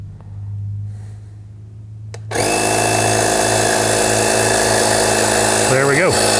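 A Kemimoto portable rechargeable air compressor switches on abruptly and runs with a loud, steady motorized drone while inflating a Honda CRF300L motorcycle tire, with a hum before start-up and a pitch wobble near the end.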